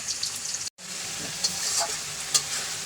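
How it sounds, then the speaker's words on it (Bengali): Cumin and garlic paste frying in oil in a pan, a continuous sizzle with a few scrapes of stirring and a brief dropout near the start, no talking. "এখন একটু নাড়াচাড়া দিয়ে পরে মাংসটা দিব, একটু কষায় মশলাটা।"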